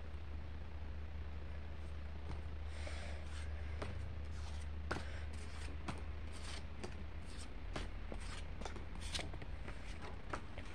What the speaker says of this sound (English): Pokemon pack. It's the rainbow one. Let's open it.